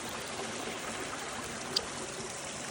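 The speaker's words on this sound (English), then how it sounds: "There's a couple of waterfalls here." Water from a small waterfall trickling into a koi pond, a soft steady babbling stream sound heard alone and fairly faint.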